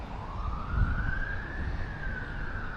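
A police car siren passes near a river while fishing, its rising and falling wail loud and continuous over low rumbling traffic and wind.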